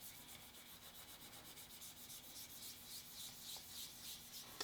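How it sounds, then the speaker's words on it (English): Fingertips rub rottenstone over the oil finish on the wooden stock of a 1905 Ithaca shotgun being restored, giving a soft, steady, rhythmic scrubbing that stays quiet and continuous with no talking. "And you just keep rubbing until your fingertips are telling you that you've got this fairly smooth."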